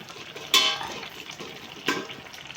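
Curry leaves and ground fenugreek fry in oil in a pan for a Kerala anchovy avial. The pan gives two sharp sizzling bursts over a soft, steady background crackle.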